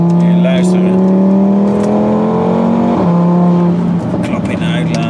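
Audi RS3 Sportback five-cylinder engine revving loudly up close, a sustained throaty drone with pitch shifts as it climbs and drops, with voices talking over it.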